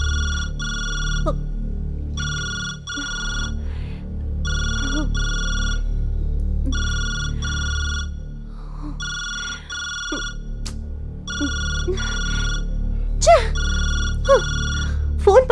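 Telephone ringing indoors in repeated double bursts, loud and regular through the whole stretch, with brief voice sounds in the gaps.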